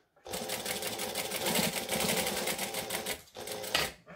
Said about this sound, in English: I just kind of sew as many little bits together as possible